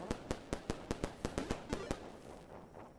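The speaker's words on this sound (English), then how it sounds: "Firework warning here as well." Rapid string of about ten sharp firework bangs from the video game Celeste, sounding in a fast, uneven rhythm before fading into a quieter hiss and crackle, moderately loud with no talking.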